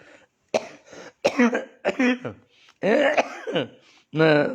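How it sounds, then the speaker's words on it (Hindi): Several short, harsh coughs and throat-clearing bursts in quick succession, close and fairly loud, separated by brief pauses. "ये तकलीफ वाली खांसी नहीं है"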